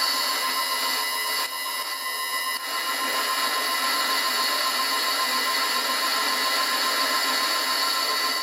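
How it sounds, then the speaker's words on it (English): Bench grinder regrinding a small 10mm thick boring bar to a 45-degree cutting angle in a workshop, a steady, loud, continuous high-pitched grinding whine holding without a break. "To the grinder."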